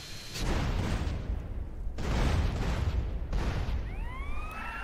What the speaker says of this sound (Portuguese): O avião ainda estoura.